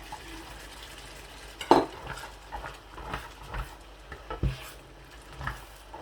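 Boiled white chickpeas are stirred in a pot with a spoon, making several scraping knocks and clinks against the metal at an uneven pace, close by and fairly quiet.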